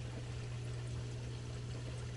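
Water gurgling and rushing steadily through a clogged Bean Animal aquarium overflow, with air bubbles in the system; a continuous, close, noisy wash with a constant low hum underneath.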